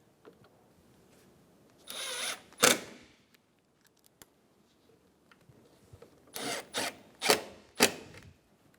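Power tool driving bolts into the front upper grille of a 2012-2020 Chevrolet Sonic: two short whirring bursts early, then a cluster of four quick bursts later, separated by quiet gaps, close and with no talking.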